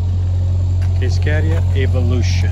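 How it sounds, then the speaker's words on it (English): Refrigeration unit on a reefer trailer running in the background near a 2017 Freightliner Cascadia Evolution truck: a loud, steady low hum drones throughout while someone talks briefly over it. "You can hear a reefer in the background going off here."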